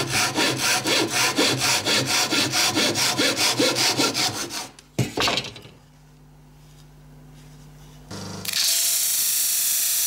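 A saw cuts wood for a lamp leg in fast, regular back-and-forth strokes that stop halfway through, followed by a short clatter, a low quiet hum and then a burst of hiss.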